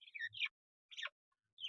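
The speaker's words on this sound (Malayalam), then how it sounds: "ഇതാണ് നമ്മുടെ ലവ് ബേർഡ്സ്" Pet lovebirds chirp in three short bursts of sharp, high tweets separated by brief pauses, fairly close and alone with no talk.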